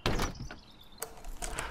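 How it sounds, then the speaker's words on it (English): Front door of an elegant townhouse in Greenwich swinging shut, giving a soft close thunk over a quiet room tone, with a couple of fainter knocks following. "closes the door to his elegant townhouse"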